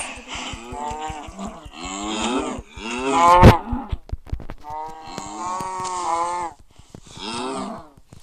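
A cow in the video game Minecraft moos several times in a row, loud and close, with short pauses between the calls and no talk.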